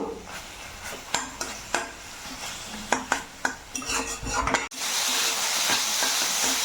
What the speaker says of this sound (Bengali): একদম শুকনো শুকনো করে নেব